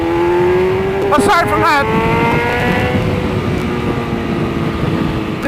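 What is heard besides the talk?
sport motorcycle exhaust revving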